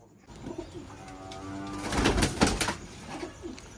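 Pigeons, including a shah-akhi hen being caught for colouring, give short, close, throaty coos layered over a rustling background.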